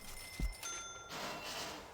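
In the prison-building game Prison Architect, inmates ring bells: a few short bright metallic rings sound quietly over a low background hum, with no talking.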